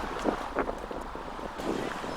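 Wind gusts across an open disc golf course in Kennewick, Washington, a steady rushing roar buffeting the microphone with a few louder swells.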